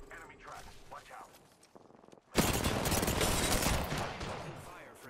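An enemy squad fires in the battle royale shooter Apex Legends, with a dense, loud burst of rapid gunfire after some quieter game sounds and voice chatter.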